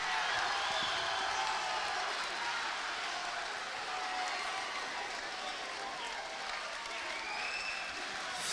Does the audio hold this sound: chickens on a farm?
no